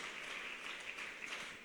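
Church congregation applauding during a Spanish-language sermon, a brief, steady wash of many hands clapping together at moderate distance.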